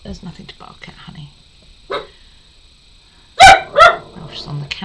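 Indoors, the pet dog Juliet lets out two loud, close barks in quick succession near the end, after a quieter yip; someone talks softly before them.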